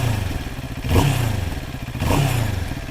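A 2024 Moto Morini Calibro motorcycle engine idling at a standstill, a throbbing low rumble with two brief blips of throttle swelling and falling back, close and alone.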